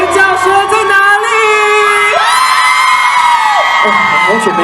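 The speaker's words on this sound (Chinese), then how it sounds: "尖叫声在哪里？" A concert crowd whoops, screams and cheers loudly at a watermelon festival event, a sustained wall of excited shouting with rising whistled or sung tones layered over it.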